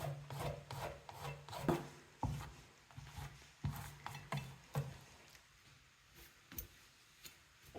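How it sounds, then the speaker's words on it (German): A flat metal palette knife spreads and smooths acrylic paint across a stretched canvas for an abstract spring mountain scene, giving repeated close, soft scraping strokes in an uneven rhythm with no talking. "mein Superwerkzeug, flacher Metallspachtel, und möchte gerne so die Farbe so flach und weich reiben"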